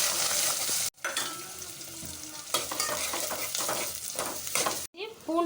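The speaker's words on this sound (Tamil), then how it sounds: "வெந்தயம் பொரிஞ்சிக்கிச்சு, வெங்காயம் போட்டலாம்" Onions are tossed into fenugreek seeds frying in hot oil for a Tamil fish curry, setting off a loud sizzle and scraping stirring. Two brief cuts break the sound before the frying resumes.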